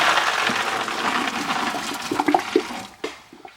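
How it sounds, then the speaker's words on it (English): Water from boiled pumpkin seeds pouring out through a drain, a loud rushing gush that gradually thins into splashes and a few drips before stopping. "Time to give her a drain."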